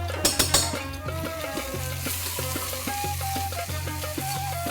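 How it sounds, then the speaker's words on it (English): Fresh nihari masala fries in ghee in a pot for mutton nihari, a soft continuous sizzle with a spoon stirring and scraping against the pan close by. "Fry this again."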